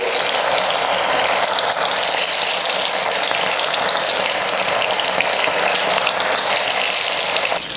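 Anchovies (nethili fish) fry in hot oil with a loud, steady, dense sizzle that holds for several seconds with no talk, tapering slightly at the very end.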